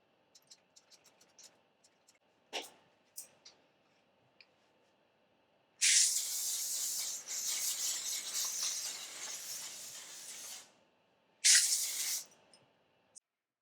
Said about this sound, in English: then I'm gonna spray some hairspray